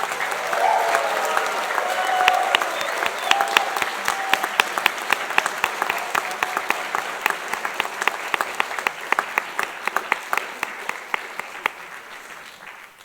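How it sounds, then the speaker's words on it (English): Audience at a Duke engineering master's hooding ceremony applauding graduates, a broad wash of clapping in a hall with sharper individual claps growing more distinct as it thins toward the end. "How about another huge round of applause for our graduates?"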